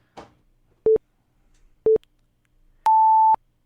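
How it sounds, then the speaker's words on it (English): A FaceTime call tone plays in a quiet room: two short, identical electronic beeps a second apart, then a longer, higher tone, clear and close. "This is a FaceTime call."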